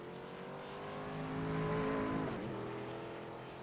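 Racing trucks roaring around the Dover oval in a video game, engines swelling to a loud pass and fading, with a brief pitch drop midway; no clear crash impact stands out.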